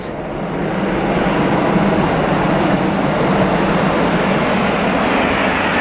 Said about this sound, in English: Oh, the train's just gone past.